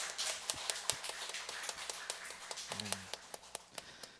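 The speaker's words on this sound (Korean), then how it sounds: "우리 박수로 한번 감사함 표현하겠습니다" A church congregation at a Sunday service applauding, many hands clapping in a loose, fairly soft patter that continues steadily throughout.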